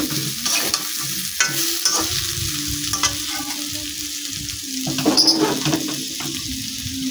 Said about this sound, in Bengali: তুলে নিয়ে আমি আরও ভালোভাবে